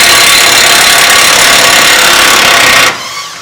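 Air impact wrench hammering loudly and steadily on a 2008 Honda Civic front wheel bearing nut, a close, continuous buzzing rattle for about three seconds before cutting off abruptly.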